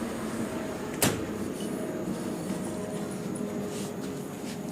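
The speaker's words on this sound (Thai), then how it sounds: "รอแม่ปิดประตูก่อน" A house door shuts with one short, sharp knock near the start, followed by quiet room hum.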